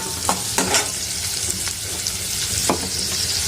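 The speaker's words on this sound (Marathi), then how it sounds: "कढीपत्ता आणि कांदा जिरं मोहरी टाकली फक्त थोडस लाल होऊ द्या" Curry leaves, onion, cumin and mustard seeds crackle and sizzle in hot oil for a potato bhaji, a loud close fry broken by a few sharp pops and stirring clicks, with nobody talking.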